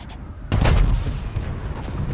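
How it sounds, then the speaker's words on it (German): Tank gun blasts in the video game World of Tanks, a heavy booming shot that opens loud and close, then rumbles on with scattered distant fire and explosions trailing behind. "Wo kommen denn die Schüsse an?"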